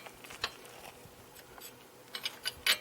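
A 7/8 inch wrench works on the primary cover of a Harley Sportster, giving scattered light metallic clicks and ratcheting taps that grow into a short cluster of sharper clinks near the end, close and fairly quiet.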